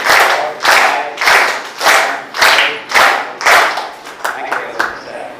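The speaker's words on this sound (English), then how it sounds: "Ask them to clap for 10 times." An audience at a live event in Surat claps together in unison about ten times, each loud, sharp collective clap evenly spaced, with the last few trailing off quieter and more ragged.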